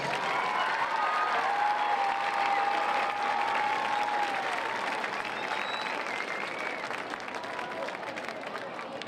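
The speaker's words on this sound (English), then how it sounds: "Please give all of our representatives a round of applause." Sustained crowd applause fills the stands at a Dalton High School football game against Lassiter, steady and dense clapping with cheering throughout, a faint whistle-like tone drifting above it.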